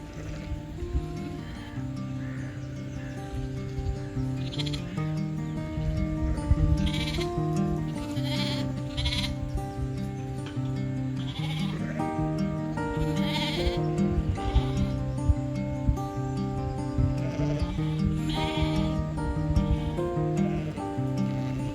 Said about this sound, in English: A quick closer check on the other sheep, and back out they go onto their grazing.